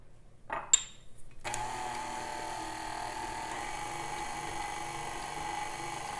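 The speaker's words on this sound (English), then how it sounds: "last little bit of powdered sugar is going to go into the mixer, as well as our vanilla." An electric mixer whips cream cheese frosting with powdered sugar and vanilla, starting after a few clicks and then running as a steady, even whir close by.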